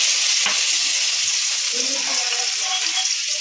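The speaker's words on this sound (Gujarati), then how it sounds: "તેલ ગરમ થઈ ગયું છે, તો આપણે અડધી ચમચી હિંગ નાખશું, આદુ લસણની પેસ્ટ નાખશું" Steady, loud sizzling of asafoetida and ginger-garlic paste frying in hot oil, a constant hiss throughout with faint clinks of stirring.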